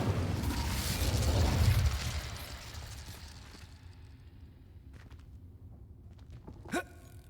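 A fire spell cast in Hogwarts Legacy: a loud, dense whooshing burst of flame roaring over the first two seconds and then fading, followed by quieter clicks and a brief bright magical chime near the end, no talk.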